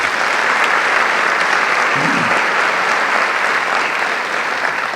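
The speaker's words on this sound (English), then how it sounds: "let's give them a round of applause" A large audience applauds the event sponsors at a motivational talk, producing a loud, sustained roar of clapping that holds evenly throughout with no voices breaking through.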